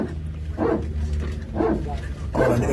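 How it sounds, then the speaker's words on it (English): Airbus A320 family hydraulic power transfer unit sounding through an aircraft cabin, a low, dog-like barking groan repeated three times in evenly spaced bursts over a steady background drone. "It's called the dog barking. It happens on the Airbus 320 family."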